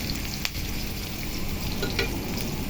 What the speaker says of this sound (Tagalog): ilalagay na natin ang ating isda